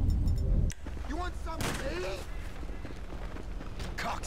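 Game gunfire and explosion sounds from a GTA V mission with Trevor erupt in a dense burst at the start, then a cluttered combat bed of bursts and thuds runs under voices talking.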